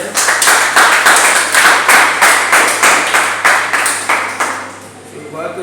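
A church congregation claps together in a steady, even rhythm to acclaim the Lord, the dense close claps repeating several times a second before fading toward the end.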